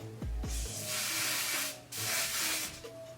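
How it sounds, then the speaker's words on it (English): Hair product is sprayed onto a wig's middle part in two close, sustained hissing bursts separated by a brief gap, with soft handling sounds before and between, and no talk. "I'm gonna spray this in the part."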